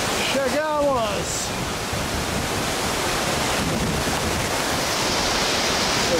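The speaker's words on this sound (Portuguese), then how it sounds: "tá vindo muita água e pode estragar a câmera" Steady, loud rush of the Avencal waterfall pouring heavily, a broad continuous roar filling the whole clip, with a brief voice speaking near the start over the torrent.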